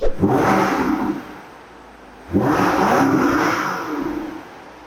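A BMW X7 M60i V8 revs twice in quick succession, each throttle blip rising to a loud, close exhaust roar before falling back toward idle, with a short lull between the two pulls.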